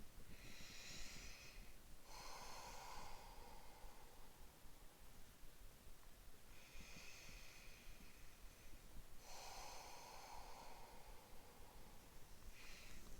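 Slow, deep breathing during a mellow yoga practice, several long airy inhales and exhales in a steady rhythm, close and quiet, with no talking.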